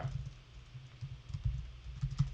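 Soft clicks of a computer keyboard being typed on, irregular taps in short bursts, quiet and nearby with no voices.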